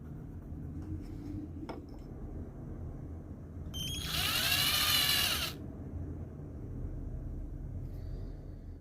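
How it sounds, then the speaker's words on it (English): A quiet room with low hum, then a short, loud burst of a power drill with a 5 mm bit whining for about two seconds as it bores holes in walnut wood, before it stops. "drilled the holes using a 5 mm drill bit"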